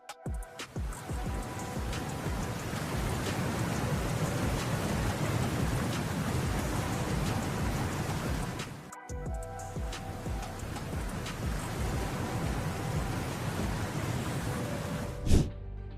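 Heavy rain pours steadily in a dense, continuous roar, briefly dipping once midway, with a low rumble underneath like distant thunder.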